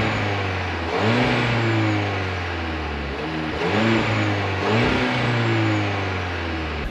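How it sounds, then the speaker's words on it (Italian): A 2024 Cupra Leon engine revs up in repeated rising pulls, each swelling then dropping back before climbing again, heard close and loud with no speech. "In più un motore scattante rende tutto molto divertente"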